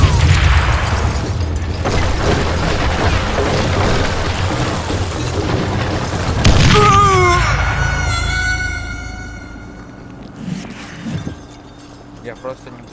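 A dynamite explosion in the western shooter game Call of Juarez: Gunslinger, a loud booming blast amid dense game action and shouted voices, followed by ringing tones as the noise fades.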